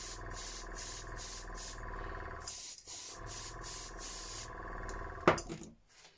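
Clear coat mixed with color shift powder hisses from a spray gun onto a jerkbait fishing lure in repeated short bursts with brief pauses between them, close up and with no talk.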